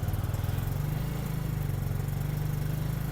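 A small 250cc two-valve carbureted motorcycle engine, cold, runs steadily at idle, a low, even putter with a fast regular pulse, close up and without talking.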